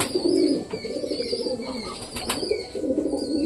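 Pet pigeons coo close by in soft, low repeated calls, with a faint chirp and light background noise, no voices.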